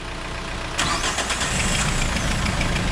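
A car engine cranks and catches at once, then settles into a steady, loud idle close by. The turbo intercooler hose had just been reconnected on this engine-swapped car.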